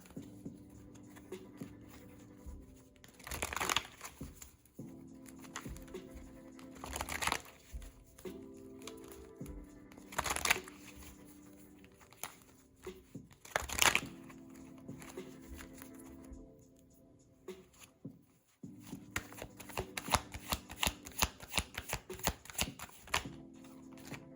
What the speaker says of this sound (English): next I would like to get a few cards from my deck here